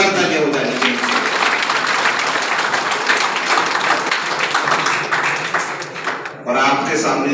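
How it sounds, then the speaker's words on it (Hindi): A crowd of teachers and students at a Swasthya Kalyan Institute World Cancer Day poster competition claps loudly and continuously for the participants, dipping briefly before the clapping swells again. "कहीं भी जोरदार तालियां हो जानी चाहिए"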